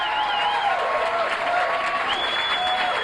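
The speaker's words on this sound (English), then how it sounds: "A nice round of applause." An audience at a Sacramento comedy club, Laughs Unlimited, applauds as a stand-up comedian is introduced; steady, full clapping with whistles and a few cheers rising over it.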